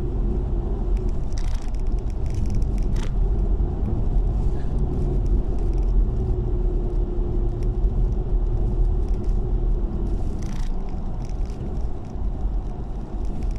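A car drives fast along a long, open boulevard in the Philippines, with a steady road rumble and engine drone throughout and occasional brief rattles and knocks.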